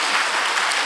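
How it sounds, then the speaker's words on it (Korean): Brief burst of dense clapping from a church congregation during a Friday worship service, a full, even roar of many hands heard up close. "하나님께 영광의 박수"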